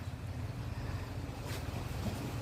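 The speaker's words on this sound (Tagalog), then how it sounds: "Wala masyadong alon dito. Pero makita nyo man yung hampas ng water." Small waves wash against the shore at Ocean 101 Beach Resort in Siargao: a faint, soft hiss of surf under light wind, with one brief fuller splash near the middle.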